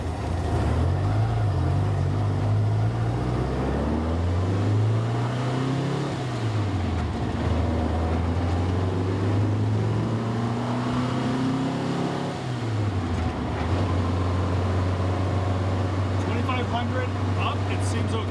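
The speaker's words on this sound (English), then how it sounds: "Just off idle, it's got a lot of hesitation, so I'm going to try to fix that." Engine of a 1974 Porsche 912 idling and rising just off idle, bogging and hesitating around 1500 RPM with uneven surges, steady and close, with someone talking over it.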